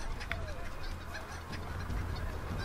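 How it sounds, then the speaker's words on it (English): A chicken in Assassin's Creed 3 gives a few faint, brief clucks, set well back in a noisy ambient game soundscape with no speech over it. "Chicken!"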